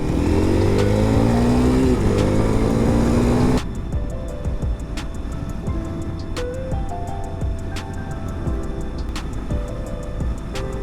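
Dirt bike engine running through a ride at the end of the season, a loud, steady motor drone with shifting pitch, heavier and revving in the first few seconds, then settling into a lower, continuous hum with no talk.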